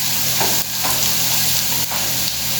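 Onion sauteing in a hot pan for a Goan dry and fresh prawn curry, a loud, dense, steady sizzle with a couple of brief stirring scrapes, no voices.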